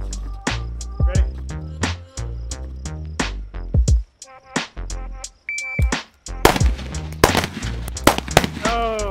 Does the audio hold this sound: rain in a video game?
no